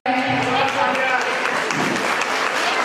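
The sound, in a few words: applause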